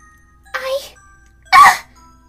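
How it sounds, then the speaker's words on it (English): Two separate coughs, a short one followed by a louder, harsher one, each standing alone against near silence. "she coughs up several drops of blood"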